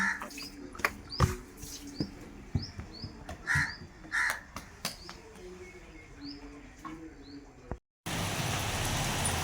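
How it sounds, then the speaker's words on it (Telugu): Rain falls in a steady background hiss while crows caw repeatedly nearby; near the end the downpour becomes a loud, dense roar. "ఇప్పుడు చూడండి బాగా వాన పడుతుంది"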